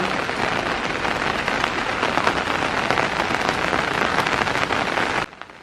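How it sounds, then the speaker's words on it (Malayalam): June monsoon rain in Kerala pours in a dense, even hiss of drops striking surfaces, loud and close, with no talking, stopping abruptly near the end. "ജൂൺ മാസത്തിലെ മൺസൂൺ മഴ"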